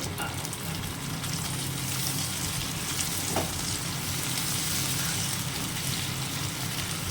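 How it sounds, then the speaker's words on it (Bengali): Grated garlic, ginger and tomato sizzle in a pan of spiced oil for a Bhola fish dish. A steady, close frying hiss runs the whole time with no voices. "একটু ভাজা ভাজা হবে"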